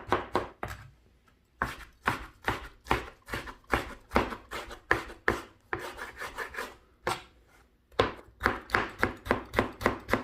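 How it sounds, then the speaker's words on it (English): A knife chops tomato into small pieces on a board in quick rhythmic bursts of sharp close taps, several runs separated by brief pauses, with no talking. "And we will cut the tomato small pieces."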